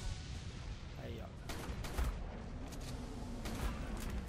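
Gunfire in a multiplayer tribes game aimed at a dragon coming in to land: repeated sharp shots, roughly every half second, over a busy game background, with talking audible underneath.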